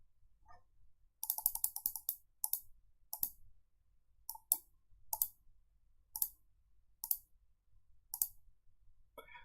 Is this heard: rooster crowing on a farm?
no